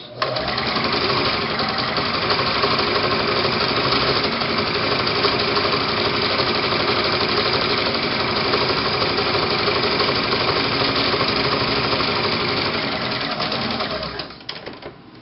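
A sewing machine back stitches on a shirred smock top, a continuous fast whirring and mechanical chatter at close range that runs steadily for most of the stretch before slowing and stopping.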